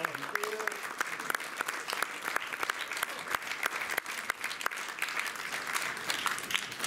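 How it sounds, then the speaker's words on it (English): An audience at a magic show stage competition claps for the volunteers in dense, steady applause with sharper individual claps standing out, a voice briefly audible early on beneath it. "Please, a round of applause for our volunteers."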